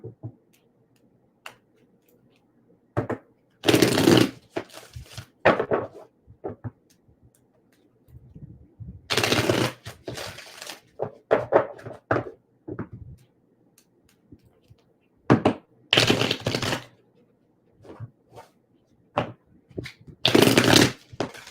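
A deck of tarot cards is shuffled close up in several sharp riffling bursts, separated by quiet pauses and softer card handling.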